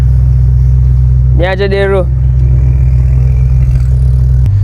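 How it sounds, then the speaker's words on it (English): A new Audi RS7 sports sedan's exhaust holds a steady, loud low rumble throughout, with a short voice-like burst partway through. "Just listen to that exhaust system on this car. Sounds really cool."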